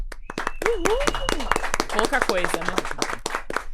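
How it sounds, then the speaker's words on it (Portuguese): Sharp, separate handclaps from a small podcast studio audience, a loose irregular patter running under a voice as he speaks the whole time. "por favor, uma salva de palmas"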